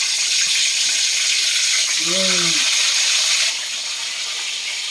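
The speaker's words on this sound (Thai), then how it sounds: "ทอดปลาทูนี่จ้า" Mackerel fries in oil with a loud, constant hiss of sizzling; a brief voice-like tone rises in the middle, and the hiss eases slightly toward the end.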